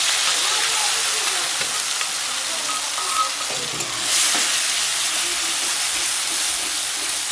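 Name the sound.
ground mustard and green chili paste frying in oil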